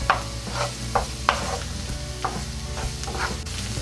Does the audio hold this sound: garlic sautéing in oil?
yes